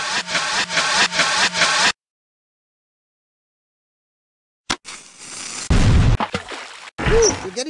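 Cannon Blaster Pro shots fire in a 16-bit-style PC video game, with short booming blasts and pops after a stretch of silence, preceded by a burst of rhythmic game sound.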